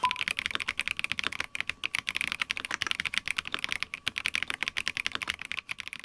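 Steady fast typing on a Logitech mechanical keyboard with marble-style switches, a dense run of crisp, clacky keystrokes heard close and alone.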